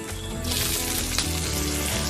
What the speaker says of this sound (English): Now, I'm going to fry your bitter gourd first